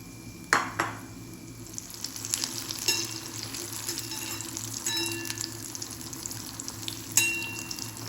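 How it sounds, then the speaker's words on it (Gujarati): Cauliflower sizzles in hot oil with a soft continuous crackle, punctuated by a few sharp metallic clinks and scrapes of a utensil against the pan. "જે રીતે તમને ફાવે એ રીતે તળી લેવાના"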